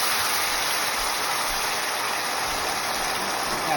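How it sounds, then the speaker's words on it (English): Orange sauce from a bottle of Panda Express sauce poured into a skillet of cooked chicken, a steady continuous hiss and trickle with no breaks, close and fairly loud, with no talking. "So I'm going to pour that in this skillet because our chicken is done."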